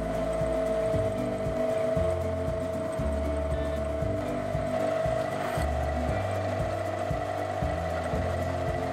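Lathe cutting the working part of a homemade attachment for a rotary tool, a steady machine hum with a tonal whine and low rhythmic pulses running continuously throughout, close and loud with no speech.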